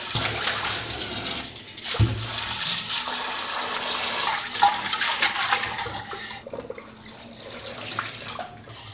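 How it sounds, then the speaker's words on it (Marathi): Water splashes and sloshes steadily inside a clay water pot being rinsed, a continuous close-up gush with a few brief knocks. "आता माठ पहिल्यांदा फक्त पाण्याने एकदा विसळून घेऊया"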